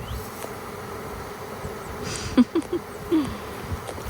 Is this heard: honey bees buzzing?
yes